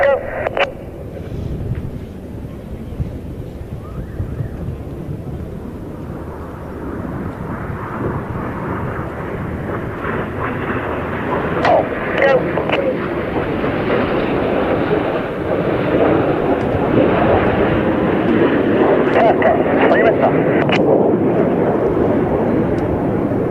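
A synchro pair of jets flies low over the airfield at NATO Days and Czech Air Force Days 2025, a loud, swelling roar that builds steadily and stays heavy to the end, with an announcer talking over it.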